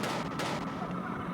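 A brief, loud burst of gunfire tied to the Afghan war fills a harsh, broadband instant, with sharp reports layered close together and no clear gap between shots.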